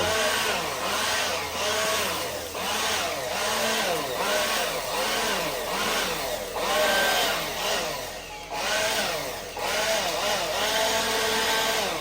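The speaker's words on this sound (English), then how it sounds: "I bought this new leaf blower" A loud, steady engine roar with a rising and falling pitch runs throughout, close by, from a new gas-powered leaf blower being revved at a storage unit.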